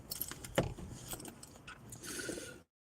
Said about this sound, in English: No, keys.